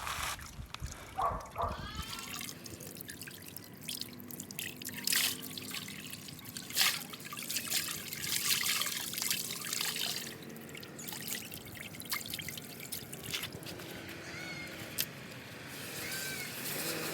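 Water trickles and drips from washed coyote pelts hung up to dry after rinsing, a steady close dribble with scattered louder splashes and no talking.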